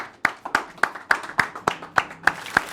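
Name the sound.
hand clapping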